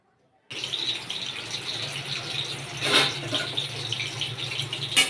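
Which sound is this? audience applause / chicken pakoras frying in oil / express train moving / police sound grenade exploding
chicken pakoras frying in oil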